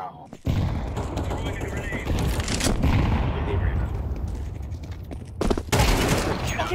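Rapid bursts of automatic gunfire from the video game Counter-Strike 2, loud and sustained for several seconds with a brief pause before a final volley, with players' voices mixed in.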